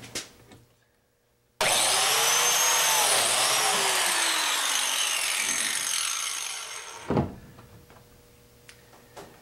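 A biscuit joiner plunges into wood, cutting a slot in the mating piece of an Arts and Crafts panel bed: a sudden loud high whine for about five seconds, tapering off, then a short thump as the cutter withdraws, with no one speaking.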